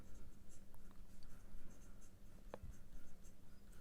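Pen writing steadily on paper while solving math problems, a close, continuous scratchy scrawl with small taps, fairly quiet and with no talking.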